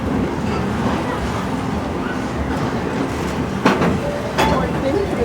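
A Walt Disney World Railroad passenger train runs with a steady rumbling, clattering roll throughout, with a couple of brief sharper bursts near the end.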